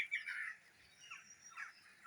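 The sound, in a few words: birds singing in the dawn chorus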